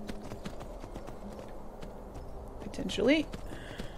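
A horse in Skyrim clip-clops along in a steady stream of hoofbeats at moderate volume, with a voice speaking briefly near the end over a short burst of louder sound.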